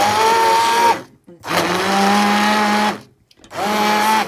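A blender purees stinging nettle soup in loud bursts, running about a second, pausing, then running again for over a second before stopping once more and restarting, its motor pitch steady and whirring.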